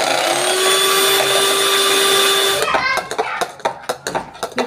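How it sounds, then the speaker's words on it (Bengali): Electric mixer whisking four egg whites for a sponge cake, a loud steady high whine for over two seconds that cuts off, followed by clattering taps of the beaters against the bowl. "সাদা অংশটাকে আমি ভালো করে একটু ফেটিয়ে নেব"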